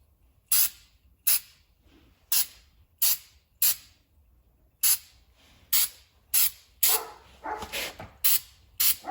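Aerosol can spraying Fluid Film undercoating onto a vehicle's underside in a series of short, sharp hisses with brief pauses between them, followed by a longer stretch of sputtering spray bursts toward the end.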